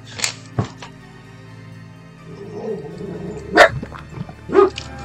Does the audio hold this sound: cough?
no